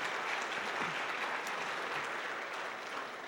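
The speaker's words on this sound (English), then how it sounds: "So round of applause for the parents." Fairly quiet, sustained applause from an awards-event audience clapping for the parents, a steady wash of hands lasting about three seconds with no voice on top.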